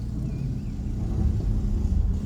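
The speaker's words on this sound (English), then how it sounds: "there's someone here pressure washing their driveway on the other side of the street right at the moment" A pressure washer cleans a driveway across the street in a Leisure Beach, Hudson, Florida waterfront neighborhood, heard as a steady, distant low rumbling drone that holds throughout.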